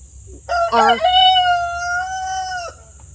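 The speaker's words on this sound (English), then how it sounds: "And they have a little rooster. It's a bantam rooster, which means it's a very small breed." A small rooster crows once, a high, thin cock-a-doodle-doo lasting about two seconds, fairly close over a quiet background.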